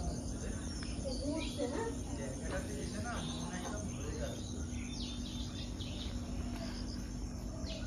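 Birds call at an evening resort, faint chirps and short calls scattered over a steady insect drone and low outdoor hum, soft and somewhat distant.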